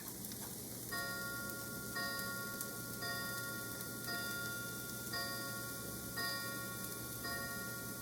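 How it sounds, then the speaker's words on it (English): A chime clock striking ten in a kitchen, with a series of clear, ringing tones spaced about a second apart over a steady background sizzle of food frying. "So our chime clock just chimed off 10 a.m."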